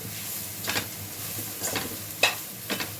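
Grated carrots frying on a low flame in a pan for carrot rice, a soft steady sizzle broken by four short scrapes of a spoon stirring.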